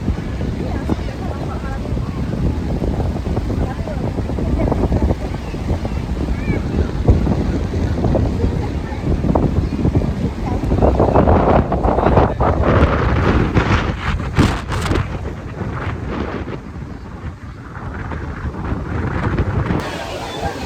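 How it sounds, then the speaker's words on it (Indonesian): Heavy wind buffets the microphone in a constant roar on a beach during a sudden night storm, with a wet rushing wash like driving rain and surf, and people talk underneath. "Tiba-tiba hujan badai, guys."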